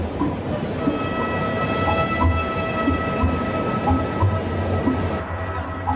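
A metro train rumbles out of a station, a steady loud roar of wheels and motors with faint tonal whine and rhythmic rail clatter.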